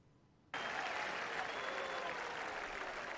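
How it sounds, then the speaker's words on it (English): A TV show crowd breaks into sudden applause and cheering after a quiet moment, a dense, even wash of clapping that holds steady and fairly faint to the end. "not a lot of people cheering"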